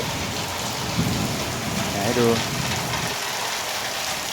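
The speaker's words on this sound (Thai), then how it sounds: "เดี๋ยวให้เพื่อนๆดูบรรยากาศฝนตกนะครับ" Steady heavy rain pours down in a continuous broadband hiss in Bang Khonthi, Samut Songkhram, Thailand, with someone speaking briefly over it.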